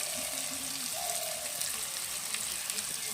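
Chicken simmering in a pan as a little water goes in, a steady bright hiss and sizzle with soft bubbling, close and fairly loud; a voice speaks faintly beneath it.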